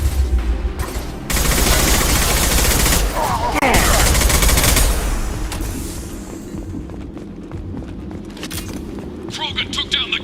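Sustained heavy gunfire from a Mass Effect 2 battle, dense rapid bursts and booms filling most of the stretch, loud and close, easing toward the end with scattered shots, while voices are heard in the background.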